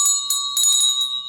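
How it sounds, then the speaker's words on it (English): A notification bell sound effect rings out bright and loud: a clear metallic bell struck several times in quick succession, each strike ringing on, with nothing else heard. "hit that notification bell right over"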